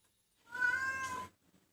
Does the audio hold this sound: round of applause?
no